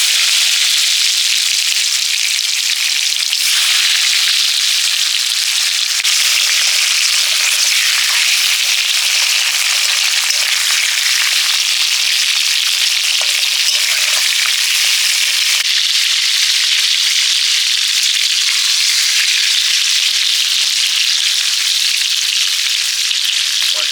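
Sweet potatoes coated in turmeric frying with panch phoron in a hot wok, giving a loud, steady, dense sizzle that holds without a break, with faint crackles.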